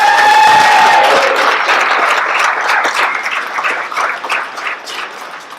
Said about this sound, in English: How about a big round of